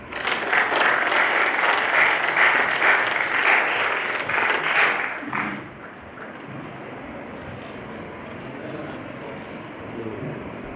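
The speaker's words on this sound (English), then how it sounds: "welcome him with a big round of applause" Audience applause welcomes a speaker at a collaboration and signing ceremony: dense, loud clapping for about five seconds, then fading to a low murmur of the hall.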